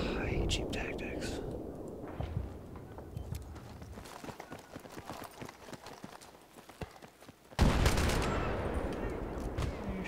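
Gunfire in the video game Battlefield 3, sharp rapid shots crackling in bursts through the match with a loud blast near the end, under quiet talk.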